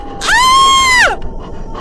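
A woman screams in fright, a single loud, sustained, shrill cry lasting nearly a second that rises sharply and then falls away, close and clear over a faint background.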